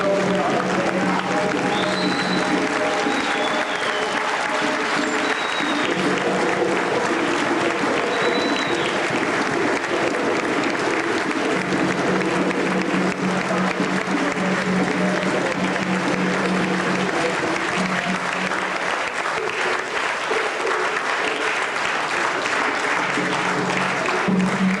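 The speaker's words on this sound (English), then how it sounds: "Let's give a warm round of applause." An audience at an evening lecture event gives a warm, sustained round of applause, dense steady clapping filling the whole stretch, with scattered voices and cheers mixed in.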